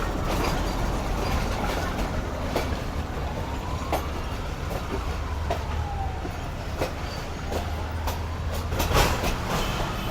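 A ten-coach Islamabad Express rake rolls past during shunting at Lahore Junction, a steady rumbling rush with rhythmic wheel clicks and faint squeals, close and continuous with no voices.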